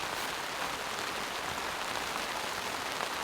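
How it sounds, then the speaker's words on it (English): Heavy rain beats steadily on a large air frame tent at a campsite, a dense, even hiss of drops without pauses, moderately loud and continuous with no voices. "So can you see this rain? Look at that. It is coming down."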